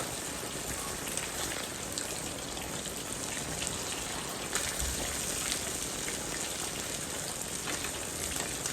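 Steady, dense rain patters continuously on a surface, an even hiss with scattered drips throughout and no voices.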